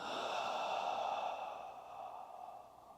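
A single slow, audible exhale through the mouth during a stretching exercise, close and breathy, fading gradually as the breath runs out.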